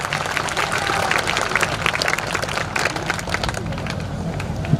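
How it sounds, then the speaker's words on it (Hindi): Enthusiastic crowd applause at a Hindu religious discourse, a dense, steady wash of many hands clapping that fills the whole stretch, with some crowd noise mixed in. "एक बार जोरदार तालियां बजाएं"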